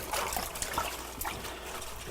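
Water splashing and trickling in a kitchen sink as collard, turnip and mustard greens are rinsed, a soft, uneven stream of small splashes and drips close by.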